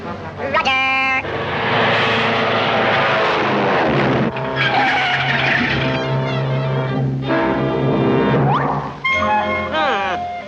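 A cartoon airplane engine roars loudly and continuously ahead of a crash landing, in a 1940s Woody Woodpecker short, with whining pitch slides and shifting tones layered with music throughout.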